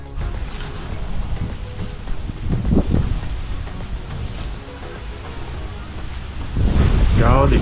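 Strong, gusty wind buffeting a microphone on a bike ride along the Empire State Trail in Stillwater, New York, a constant low roar that swells in heavy bursts, loudest near the end.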